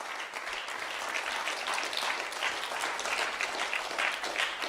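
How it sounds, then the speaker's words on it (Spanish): A church congregation applauds steadily and fairly loudly at a service, a dense, even wash of clapping that holds for the whole stretch with no voices standing out. "Fuerte el aplauso a su gloria."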